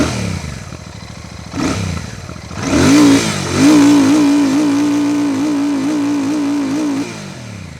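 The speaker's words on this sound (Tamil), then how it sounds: "இப்போ இதை ஜஸ்ட்டு ரெவ் பண்ணி இதோட பீட் எப்படி இருக்குது அப்படிங்கிறத இப்போ நம்ம செக் பண்ணி பார்ப்போம்." A Royal Enfield Classic 650 Twin motorcycle's parallel-twin engine is started and revved, rising to a steady, throaty idle with slight wavering. It sounds close and loud, with no voices over it.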